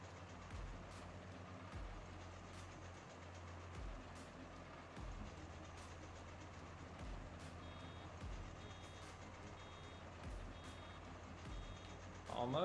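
A tractor's warning beep repeats in a farming simulator game while cutting oats, a string of faint evenly spaced tones over a constant low engine drone.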